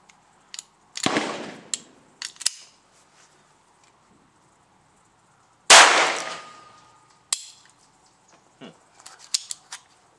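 Several sharp .22 LR shots from a Lorcin pistol fired at a target, spaced irregularly with long pauses between them, loud and close, with faint clicks and handling noises in between.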